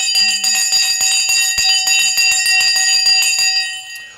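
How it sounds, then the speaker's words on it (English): A bell rings repeatedly and steadily, loud and close, struck in a quick even rhythm that rings on with sustained tones and no talk over it. "We're going to ring the bell now."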